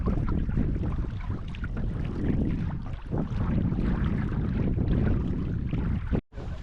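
Wind and rain on Three Mile Lake in Algonquin while canoeing, a loud steady buffeting roar of gusts against the microphone with splashing water, briefly cutting out near the end.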